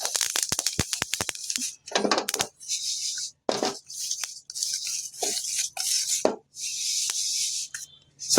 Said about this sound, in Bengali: দেখেন কিভাবে ফুটতেছে তিলগুলো